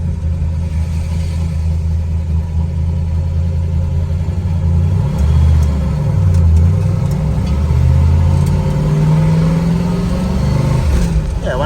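A 1969 Chevrolet Camaro with the L89 engine and four-speed close-ratio transmission accelerates on the road, a loud deep engine rumble rising and falling through gear changes, heard from inside the car.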